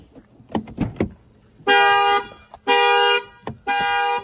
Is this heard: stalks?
no